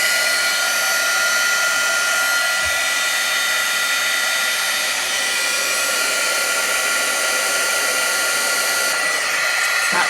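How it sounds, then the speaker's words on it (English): Heat gun running steadily for melting embossing powder in a holiday craft project, a loud constant blowing whir with a faint click early on. "I've got my heat gun here. So let me get it going, get it warmed up, and we'll get this embossed."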